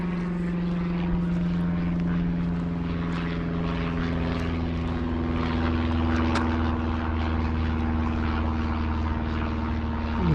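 A small propeller plane drones steadily overhead in open hill country, its engine hum continuous and fairly loud throughout, with no voices.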